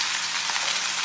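Beef roast pieces for sauerbraten searing in a hot pan, giving a steady, close, dense sizzle with no gaps or voices.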